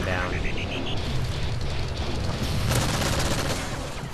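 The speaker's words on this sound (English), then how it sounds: "That's a hip fire straight on him." Rapid hip-fire gunshots from Call of Duty MW3 crackle in a dense, continuous burst of game combat, with a rising tone and overlapping explosions filling the mix.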